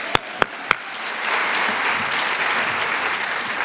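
Three sharp single claps, then a steady wash of audience applause at a school district staff convocation, even and sustained from a moderate distance.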